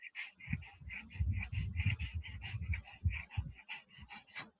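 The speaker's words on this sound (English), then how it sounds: "That's my pug, in case anybody's wondering what kind of dog it is." A pug panting rapidly and rhythmically up close, quick wheezy breaths with snuffly snorts, loud and continuous.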